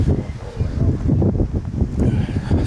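Blustery wind buffets the microphone outside a gated manor hotel, a steady low rumble with gusty swells throughout, alone with no talking.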